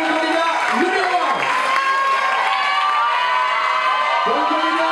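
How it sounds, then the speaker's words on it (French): A crowd at a regional elegance model pageant cheers and applauds loudly and continuously, with shouts and whoops over dense clapping and a voice rising through the noise. "Je pense qu'on peut encore une fois les applaudir très fort."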